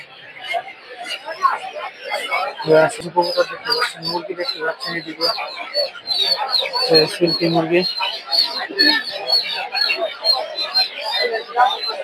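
Many chickens, including silkies, cluck and squawk together in a busy, continuous chorus at a poultry market in Narsingdi, Bangladesh, with sharp calls popping out over a noisy crowd of birds.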